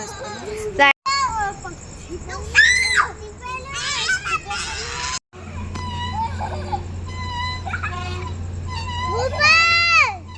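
Someone shouts and screams repeatedly on a busy playground, loud and close, with other children's voices and chatter around and a steady background hum.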